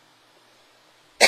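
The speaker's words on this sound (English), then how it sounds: "please forgive the coughing and the clearing of throat and stuff" A single sharp cough or throat-clear bursts out close and loud after a second of near silence.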